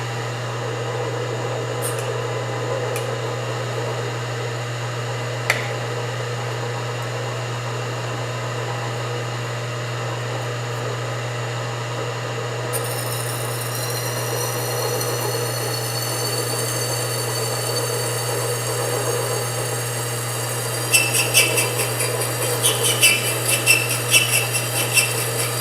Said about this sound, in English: Feeding it really slow simply because I'm not real familiar with using the slitting saw in this manner.